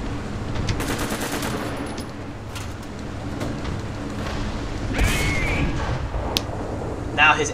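Tank gunfire in the War Thunder video game comes as several heavy booms and rattling bursts over a rumbling engine bed, with a louder blast near the middle and another crack at the end.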